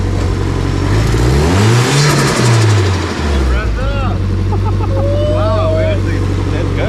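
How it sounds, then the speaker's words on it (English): A car engine revs hard with a turbo spooling and whistling, loud and close, the pitch climbing and falling through a couple of revs before settling into a steady rumble. "that turbo noise"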